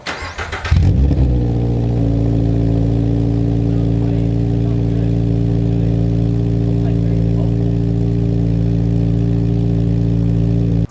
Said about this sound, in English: I'll go ahead and put in a sound clip right here of what the MXP sounded like when we first threw it on.